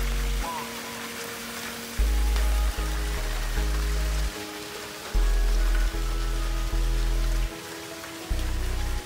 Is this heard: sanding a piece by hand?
no